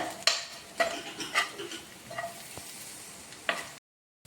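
Curry leaves spit and crackle in hot oil in a pan, bursts of sizzling and scraping stirs coming in irregular pulses before cutting to silence at the end.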